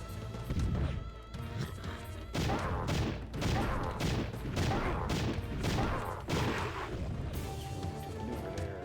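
Cannon fire in PowerSlave on the Sega Saturn, a dense run of repeated crashing booms and impacts at an uneven rhythm under game music.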